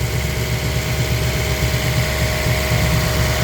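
An engine running steadily and loudly with a low droning hum after a hose is removed, no clear rise in pitch from revving, cutting off abruptly at the end.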